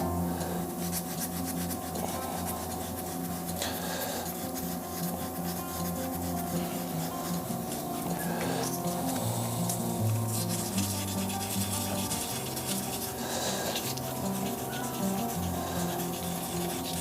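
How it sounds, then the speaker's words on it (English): Continuous abrasive rubbing of sandpaper on a wooden shaving brush handle spinning on a lathe, a steady rasping hiss over a low mechanical hum, loud and close throughout. "on the sanding part"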